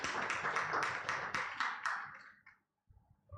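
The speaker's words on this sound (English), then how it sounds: "let's give them a round of applause as they step forward." A small group at an agriculture conference claps in quick, rhythmic bursts for a couple of seconds, then the clapping fades into near silence.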